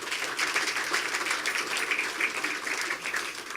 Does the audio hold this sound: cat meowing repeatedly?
no